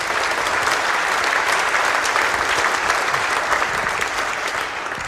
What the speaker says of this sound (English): I want to give them all a round of applause before we start.